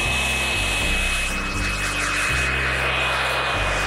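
An RC jet model called the Reaper flies at Temora in Australia, a loud, continuous jet whine with a steady high tone over a pulsing low rumble.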